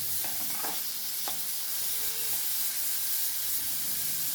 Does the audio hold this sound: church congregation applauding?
no